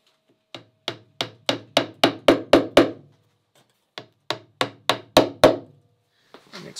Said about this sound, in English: So I'll just use a drop of cyanoacrylate on those guys and just hammer them in.